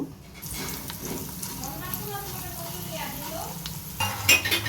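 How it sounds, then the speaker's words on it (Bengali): Ginger paste frying with dried chilies and bay leaves as a spoon stirs the pan, a steady soft sizzle broken by occasional scrapes and metallic clinks, a little louder near the end. "এবার আমি নেড়ে এটাকে আর একটু ভেজে নেব"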